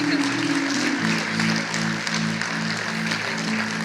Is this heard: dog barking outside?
no